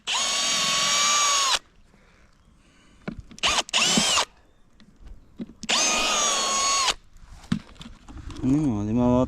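A power drill drives screws in repeated bursts: two long steady whines, several short stop-start pulses between them, then a winding-down tail, all loud and close, with quiet gaps between runs.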